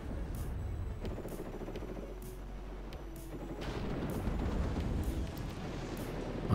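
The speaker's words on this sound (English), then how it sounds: "Rocket attack coming in." Rocket strikes landing in the real-time strategy game WARNO, a dense rumbling barrage of explosions with repeated sharp impacts rolling on for several seconds, loud and continuous with no voice over it.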